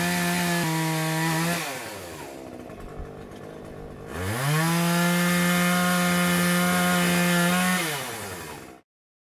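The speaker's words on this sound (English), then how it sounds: "I'm going to cut each to length about 11 inches tall using this small little wood saw" A small hand saw cutting an oak dowel with long, rhythmic back-and-forth strokes, pausing briefly in the middle before resuming, close and clear.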